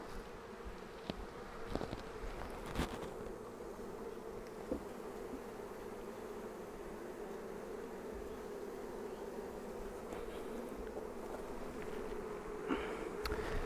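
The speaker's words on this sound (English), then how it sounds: "You see here there's so many bees again where I need to work" Honeybees swarm around a nuc hive, a dense, steady hum of many wings at low volume, with a few brief ticks and knocks but no voices.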